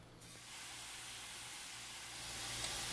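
Rotel diced tomatoes and chilies poured into a skillet preheated to medium-high heat, a sudden broad hiss of steam and sizzle that starts at once and holds steady, rising slightly toward the end.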